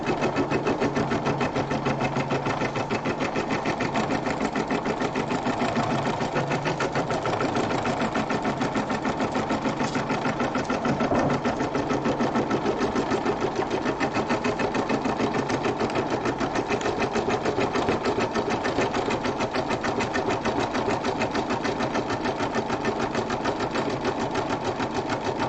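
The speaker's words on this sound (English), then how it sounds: "I don't know what in the world is going on with my sewing machine" Sewing machine stitching embroidery on a rope bowl, running steadily and loudly with a fast, continuous mechanical whir and rapid needle rhythm throughout, nothing else heard.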